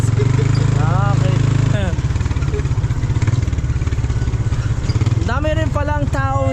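A tricycle motorcycle engine runs loudly and close at a steady throbbing idle, with a brief dip partway through, while voices talk over it.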